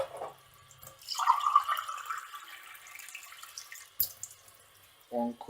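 Water poured from a cup into uncooked rice in a pot while making curry: a short splashing pour of about a second, close and moderately loud, with quiet kitchen sounds before and after.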